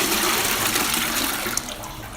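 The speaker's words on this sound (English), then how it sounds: "The guard has flushed their little friend down the toilet." A toilet flush in a public restroom, a steady rushing gush of water that fills the whole moment and tapers slightly toward the end, with no voices.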